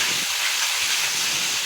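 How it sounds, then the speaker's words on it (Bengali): Spice paste frying in oil gives a steady, close, bright sizzling hiss throughout, with no talk over it. "তারপর মশলা কষাচ্ছি।"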